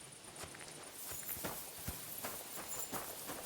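Horse hooves clopping in the video game Kingdom Come: Deliverance 2, a steady run of light footfalls on the ground, moderately close, with no talk.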